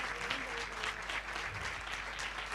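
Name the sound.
audience applause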